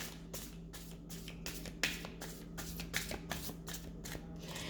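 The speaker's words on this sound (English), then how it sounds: "So first I'm going to clear the cards." Tarot cards shuffled by hand in steady repeated bursts of papery riffling and soft slaps, close and moderately loud over a constant low electrical hum, with no talking.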